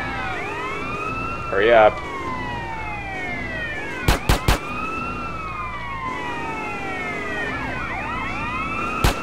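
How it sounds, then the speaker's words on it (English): Police car sirens wail and sweep repeatedly in Grand Theft Auto San Andreas, several overlapping cars in pursuit amid engine noise, with a sharp horn-like blast midway and a voice speaking briefly. "like a whole posse of police cars on my ass is not doing much for my spookometer"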